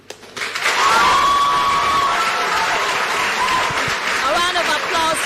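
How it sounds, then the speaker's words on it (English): A studio audience on a TV talent contest gives a contestant a full round of applause and cheering, building quickly and staying steady and close, with brief whoops rising over the clapping. "A round of applause for Tracy."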